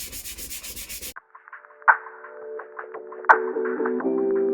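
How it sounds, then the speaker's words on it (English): Hand sanding paint off the metal of a Milbro Diana model 77 air rifle: a quick run of rhythmic rasping strokes, then silence and scattered scraping and knocks, close up. "Let's have a little go at sanding this."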